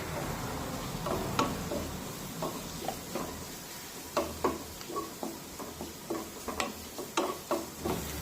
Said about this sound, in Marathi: 1 मिनिट हे वाटण सुद्धा परतून घेऊया